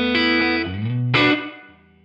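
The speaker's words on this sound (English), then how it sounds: "you push the reverb to 80" Loud distorted electric guitar chords through an IK Multimedia ToneX pedal, reverb set to 80, ring out, changing twice, each washed in a long, heavy reverb tail that lingers as they decay.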